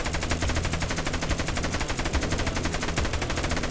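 A Roblox Dead Rails turret machine gun fires at bandits in a steady, rapid, continuous burst of loud shots with an even rhythm throughout.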